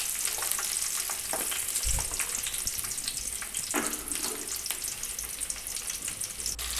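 Mustard seeds, cumin, green chillies and sliced onions sizzle and crackle steadily in hot oil in a pan, with occasional stirring scrapes and pops.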